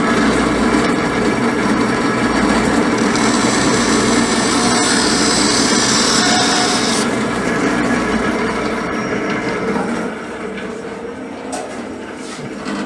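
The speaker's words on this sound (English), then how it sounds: "I'm going to drop right behind you and use my bandsaw." Bandsaw cutting a small tapered wooden plug in a workshop, a steady whining drone with a brighter rasping cut in the middle, then the motor note settling lower as the cut finishes.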